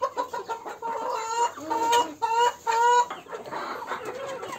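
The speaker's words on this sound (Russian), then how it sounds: "Курочка американы." An Ameraucana hen clucks in a series of short, nasal calls, rising into a couple of louder drawn-out squawks before settling back to soft clucking.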